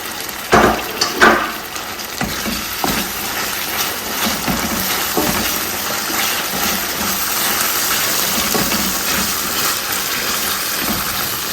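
Carrots and tomato puree land in a hot pan for a corned beef egg sauce, opening with a few loud clattering hits before settling into a steady, close sizzle and bubbling hiss.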